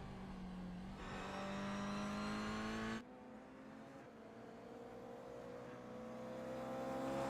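A race car engine in a GR Cup sim racing game drones and revs steadily with whining harmonics, shifting gear once partway through, then climbs again, with no voices over it.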